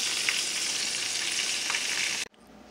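Fish fillet fries in hot oil, giving a loud continuous hiss that stays even for over two seconds and then cuts off abruptly, leaving near silence.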